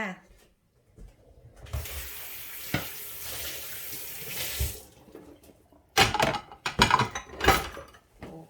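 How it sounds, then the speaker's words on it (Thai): Water runs from a kitchen tap while hands are washed during baking, a soft hiss that swells and fades, then louder splashy bursts near the end. "ล้าง มือแป๊บหนึ่ง แป๊บหนึ่งนะ จ๊ะ"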